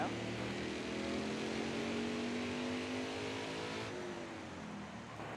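NASCAR Heat 4 stock car engines roar loud and close, one steady rising rev with overlapping engine tones from nearby cars, and no talking over it.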